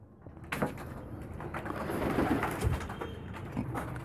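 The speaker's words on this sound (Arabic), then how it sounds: "يجي على طول الحمام." Pigeons gather at a feeding spot, cooing softly and repeatedly amid rustling wings and shuffling, close by, with no speech.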